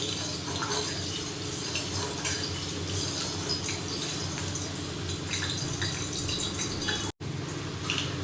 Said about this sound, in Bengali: এ বাবা জল পড়ে গেছে